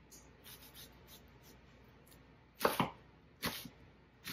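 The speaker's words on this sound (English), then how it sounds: "slice these onions very small" A knife slicing onions on a cutting board for loaded baked potato soup, a few quiet scattered cuts followed by two short clusters of sharper chops, fairly close with no talking.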